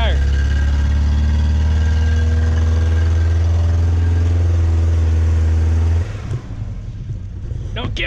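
A 2003 Ford Focus engine revs hard and steady with one tire spinning, a loud sustained roar that drops off abruptly near the end, leaving a rougher, quieter engine note.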